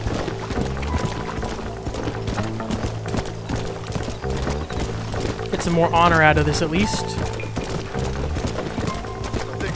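Horse hooves clip-clopping steadily in the Red Dead Redemption video game on PC, with a brief whinny partway through, all under continuous talk and game sounds.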